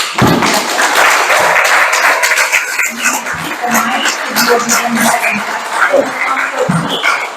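Applause from the audience at a Hartford City Chamber of Commerce mayoral candidate forum, a loud, close burst of dense clapping that runs steadily throughout the clip with a few thumps mixed in.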